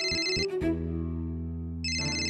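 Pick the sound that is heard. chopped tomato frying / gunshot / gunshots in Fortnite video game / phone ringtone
phone ringtone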